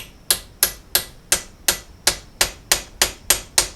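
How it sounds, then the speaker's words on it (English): Eleven sharp metallic whacks in an even, steady rhythm, about three per second, as a piece of aluminum strikes a crusty old PEXTO bead roller part on a workbench during restoration, each blow ringing bright and close. "let's take this over to the bench and give it a whack"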